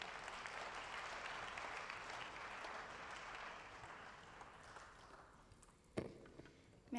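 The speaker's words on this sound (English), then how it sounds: "A round of applause." Audience applause at a cancer meeting, sustained clapping from a seated crowd that gradually thins out, with a sharp knock near the end and a brief noise at the close.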